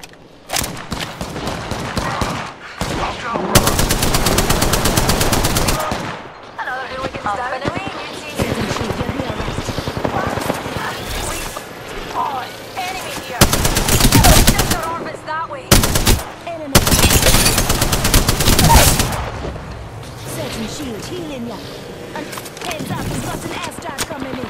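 Dense automatic gunfire erupts in repeated bursts during an Apex Legends battle royale match, loud and close, with short pauses between volleys while players talk over the shooting.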